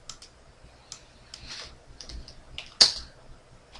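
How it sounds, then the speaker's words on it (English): Computer keyboard typing, close and fairly quiet, with uneven bursts of key clicks separated by short pauses and one sharper, louder keystroke near the end. "just bear with me while I type"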